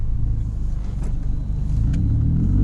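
A 2015 Scion tC with a 6-speed automatic is driven, heard from inside as a steady low road and engine rumble that holds even for nearly three seconds with no talking.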